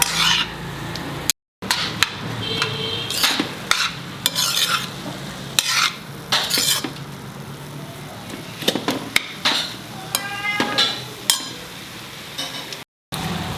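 Bottle gourd frying in ghee over a medium flame for halwa, with a steady close sizzle and repeated scraping, clinking stirs of a spoon against the pan.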